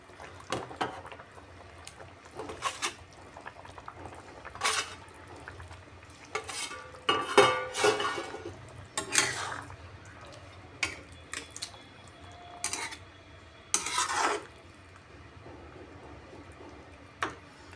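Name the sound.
fried rohu fish being added and stirred into simmering curry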